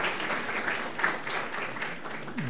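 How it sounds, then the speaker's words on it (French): Applause from diners at a gala dinner, a moderate, fairly steady patter of many hands heard at some distance, holding evenly throughout. "Donc vous pouvez les applaudir, merci beaucoup."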